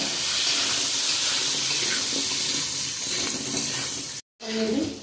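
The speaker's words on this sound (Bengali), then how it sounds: "লবণ, হলুদ দিয়ে আলুটা তো ভালো করে ভাজা ভাজা করে নেব।" Potatoes frying with salt and turmeric in a pan for a prawn and greens curry, giving a steady loud hiss and crackle that runs almost throughout, with a brief break of silence near the end.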